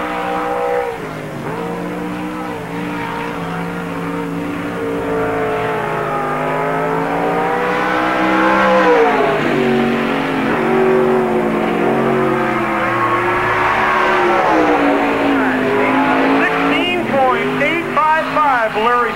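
NASCAR Busch All Star Tour stock cars race a lap at Park Jefferson Speedway in 1997, engines roaring loudly with rising and falling revs as cars pass, under a track announcer's voice.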